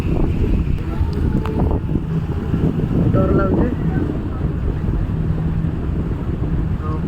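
A boat ride across a lake, with steady wind buffeting the microphone and a low, continuous rumble throughout; people talk over it.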